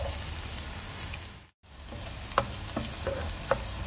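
Onions sautéing in a pan as spinach is added, a steady gentle frying hiss with a brief gap partway through, then scattered light taps and crackles as the contents are stirred.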